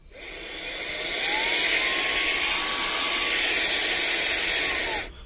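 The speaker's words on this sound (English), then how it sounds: "this little Fantic vacuum, and this thing works phenomenal" A small USB-chargeable handheld Fantic vacuum runs inside a 2023 Nucamp 320s camper trailer, giving a steady, close, airy whine that spins up at the start and cuts off after about five seconds, with no talking.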